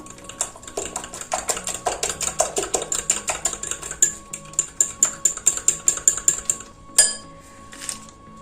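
Oil and lemon juice being whisked by hand for lemon turmeric cookie dough, a quick run of rhythmic clinking strokes against the bowl, close and steady, with a brief pause and a few final taps.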